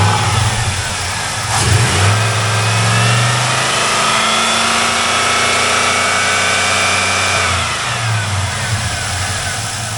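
A 2004 Pontiac GTO with a 5.7L LS1 V8 drives around a wrecking yard, its engine revving and pulling loudly and continuously, with pitch swells as it accelerates and eases off.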